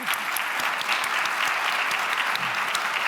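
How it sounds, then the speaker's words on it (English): Conference attendees at an intelligence studies summit give the panelists a sustained round of applause, a continuous wash of many hands clapping at moderate volume with no speech. "let's give everybody here a round of applause"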